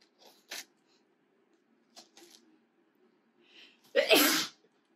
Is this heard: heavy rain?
no